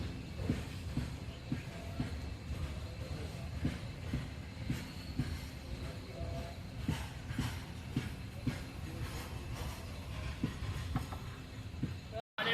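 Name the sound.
train stopped at station waiting for a crossing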